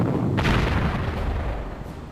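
Artillery guns fire in the strategy video game Panzer Corps: Allied Corps, a deep booming blast with a sharp onset followed by a rumbling decay that fills the short stretch.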